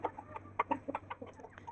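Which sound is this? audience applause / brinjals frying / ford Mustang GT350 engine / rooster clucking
rooster clucking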